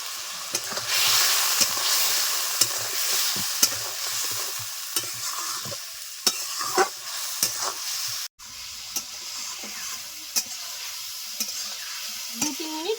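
Katla fish sautéing in a pan with salt, turmeric and chili powder: a steady, close sizzle runs throughout, broken by frequent scraping stirs, with no voices.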